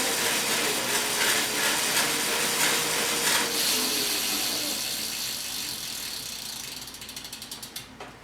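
Pedals turn a homemade bicycle-powered generator, its freewheel ratcheting in a steady, close mechanical whir that slows toward the end into separate, distinct clicks.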